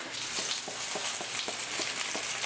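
Salmon sizzles steadily in an unevenly heated skillet, a dense continuous crackle with a faint rhythmic scraping roughly every quarter second, close and loud with no talking.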